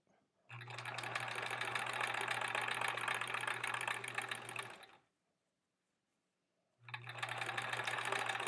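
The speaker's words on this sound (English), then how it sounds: "I think it's time to oil the machine though. It's feeling a little kerchunkety again." Sewing machine stitching quilt-as-you-go blocks, a fast steady whirring run lasting several seconds, then a brief pause before the motor starts up again, close and clear.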